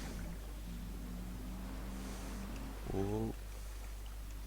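Water engine on a player-built vehicle in the game Trailmakers, a steady low motor drone with splashing water noise running throughout, and a brief voiced exclamation near the end.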